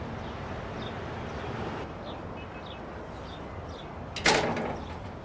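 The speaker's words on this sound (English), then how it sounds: "Open the door." A door is opened with a sudden loud clack and slide, followed by a brief rumbling decay, after a few seconds of faint ambient noise.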